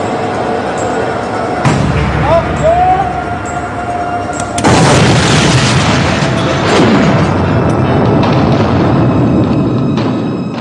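Rock-blasting explosions inside the Gotthard railway tunnel under construction: a loud boom hits near the two-second mark, then a heavier, sustained roaring blast erupts mid-clip and rumbles on with echoing debris noise to the end.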